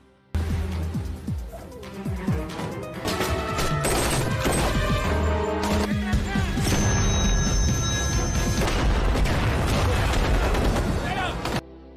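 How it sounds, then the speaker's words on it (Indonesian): A film firefight fills the scene with dense bursts of gunfire, sharp crashes and booms layered together, loud and nearly continuous after a brief quiet start, and voices are heard amid the shooting. "Terlihat tim luar sedang baku tembak dengan Eggbar dan pasukannya."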